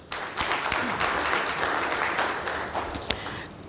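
An audience gives a speaker another round of applause at a presentation, steady moderate clapping lasting throughout with a few sharper claps standing out near the end.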